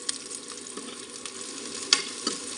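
Curry leaves hitting a pan of softened green chillies sizzle in a steady, moderate hiss, with a few sharp crackles and pops, the loudest near the middle.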